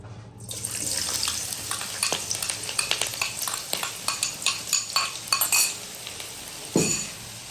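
Three medium chopped onions dropped into a cup of hot oil in a karahi, sizzling loudly and steadily, with stirring scrapes and clinks throughout and a sharp spatula knock near the end; no one talks.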